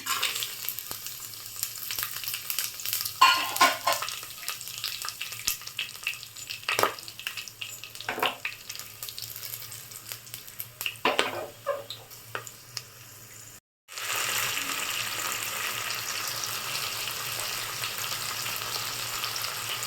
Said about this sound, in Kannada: ಎಣ್ಣೆ ಕಾದಿದೆ ಸೊ ನಾನು ಇಟ್ಕೊಂಡಿರೋ ಎಲ್ಲ ಸ್ಪೈಸಸ್ನ ಹಾಕೋತಾ ಇದ್ದೀನಿ